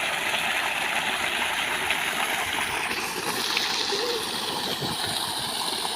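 Water rushes steadily and loudly along a stream or channel near a home, fed by a running motor, a dense unbroken gushing that fills the whole stretch.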